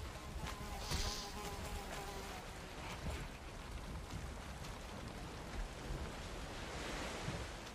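A giant Deathsquito from the game Valheim buzzing in flight, a thin droning whine rising and fading over a steady wash of ambient game noise, with no voices.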